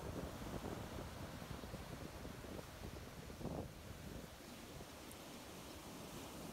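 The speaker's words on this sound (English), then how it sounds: "Notice the presence of the water, the constant change of water flowing in and drawing back." Ocean surf at a beach, a steady, faint wash of water rolling in and drawing back under wind-like noise, with no voices.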